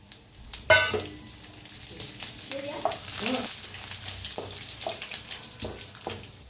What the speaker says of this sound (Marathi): सगळे खडे मसाले घेतले होते, सगळं भाजून घेऊया